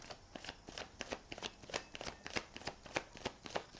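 Tarot cards are shuffled close up in quick, rhythmic riffling bursts, crisp paper slaps repeating steadily for a few seconds with no voice.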